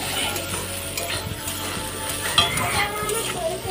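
A potato curry with tomato fries in a pan over a low gas flame while a utensil stirs and scrapes steadily, with a continuous sizzle and occasional metallic clinks close by.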